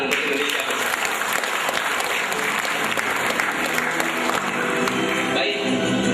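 A large audience at an Islamic lecture claps in a loud, continuous burst of applause with some crowd cheering mixed in, fading slightly toward the end.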